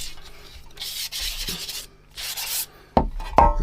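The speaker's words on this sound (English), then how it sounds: "if you use wet and dry, it clogs up really quick and you go through more sandpaper" Wet-and-dry sandpaper rubbing over a nitrocellulose-lacquered guitar pedal, a close, soft swishing scrape in several strokes with short pauses, the last two strokes sharper and louder.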